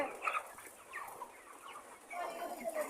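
Several farm chickens clucking softly nearby while eating feed, short irregular calls overlapping at low volume with quiet background.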